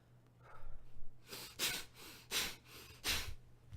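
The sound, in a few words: rapid forceful breathing in and out through the nose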